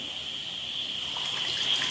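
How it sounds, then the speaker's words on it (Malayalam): Water streams continuously into a cooking pan for Maggi noodles, a steady bright pouring hiss that rises slightly toward the end and plays alone without talk. "വെള്ളം ഒഴിക്കാം"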